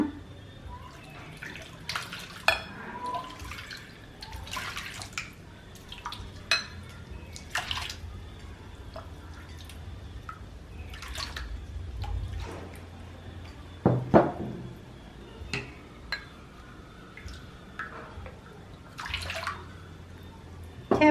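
Water is poured and splashes into mung bean flour in a bowl, irregular close trickles and sloshing bursts with occasional clinks of the container, separated by quieter pauses.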